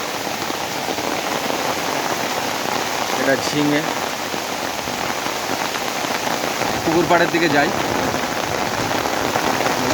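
A downpour drums steadily on a garden beside a pond, loud unbroken hiss from start to finish while a voice speaks briefly over the rain.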